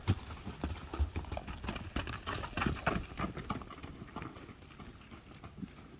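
A small horse's hooves clip-clopping in a steady, fairly close rhythm of light knocks, continuing throughout over a faint background hum.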